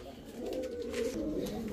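Pigeons kept for sale by a seller coo in a low, continuous murmur, fairly close and soft, with a faint hint of voices in the background.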